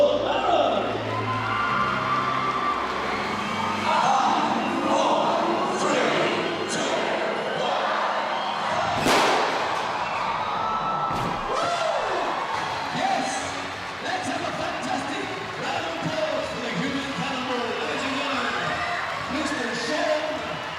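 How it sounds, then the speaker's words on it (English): A crowd at a human cannonball show for performer Shawn Marin keeps up steady applause, cheering and whoops, with a sharp bang partway through and voices mixed in throughout. "Let's have a fantastic round of applause for the incredible, the sensational Shawn Marin!"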